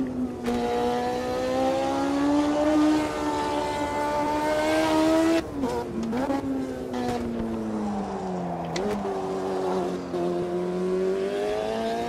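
A turbocharged race car engine in Automobilista 2 roars loud and close, pitch climbing steadily through the gears with brief dips at shifts, then holding a sustained high drone.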